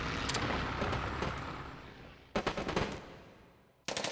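Hearts of Iron 3 battle effects: bursts of machine-gun fire and booming bombardment rumble, a dense roar easing off, then rapid clusters of shots returning near and loud.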